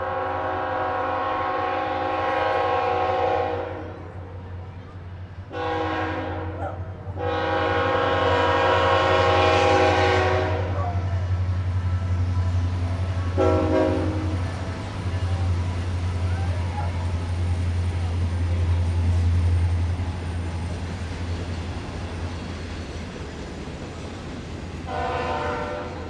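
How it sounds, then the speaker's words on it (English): A train passes at a local community gathering, its horn sounding in several loud sustained blasts over a steady low rumble of wheels and engine, with a final short horn blast near the end. "We'll just wait for the train."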